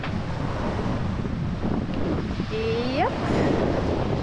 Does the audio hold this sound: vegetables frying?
no